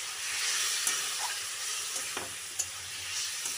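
Spice masala for a rohu fish curry with potato and pointed gourd sautés in a pan, a soft continuous sizzle broken by a few scraping stirs and small clicks of the spatula.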